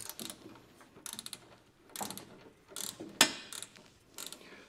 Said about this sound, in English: use a ratcheting three quarter inch wrench